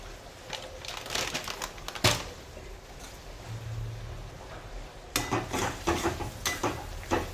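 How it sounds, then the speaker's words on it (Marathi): Gram flour (besan) is stirred and roasted in a pan for bhendi pithle: steady dry scraping and crinkling with sharper scrape bursts around two seconds and again after five, no talk. "बेसन छान परतून घ्यायचं आहे, त्याचा कच्चापणा जाईपर्यंत."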